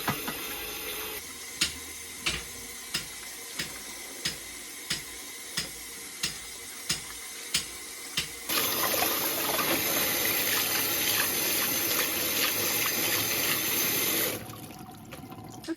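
Chicory greens are washed under running tap water at a sink in a Sicilian home, with regular clunks during handling, then a steady, louder gush of water that stops abruptly near the end.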